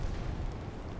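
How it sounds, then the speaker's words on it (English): A warship blowing up in the naval battle game Ultimate Admiral: Dreadnoughts, heard as a dense, rumbling low boom that fills about a second without a sharp onset or any voices. "There's an explosion there."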